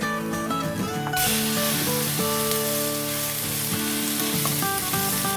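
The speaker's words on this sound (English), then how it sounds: "Stir fry until the meat brown." Pork stir-frying in a pan with caramelized onions: a loud, bright sizzle starts suddenly and holds steady, under background music.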